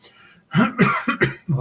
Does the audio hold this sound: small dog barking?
no